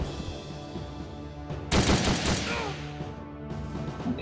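Gunfire from an attack in the Nintendo 3DS strategy game Ghost Recon: Shadow Wars erupts as a loud burst of rapid shots over game ambience, followed by faint trailing effects.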